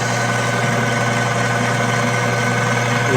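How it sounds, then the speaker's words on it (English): A metal-cutting machine tool, likely a lathe, spins slowly in back gear before cutting a tiny groove, giving a steady, loud mechanical hum with a constant low drone and no voices throughout. "Back gear so it spins a little bit slower to avoid the vibration."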